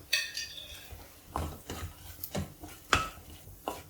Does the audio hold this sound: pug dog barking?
no